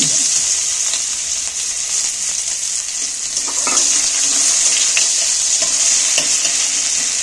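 Chopped onion fries in hot oil as a tempering for a fish curry, a loud, continuous hiss of sizzling close up, with faint stirring knocks now and then.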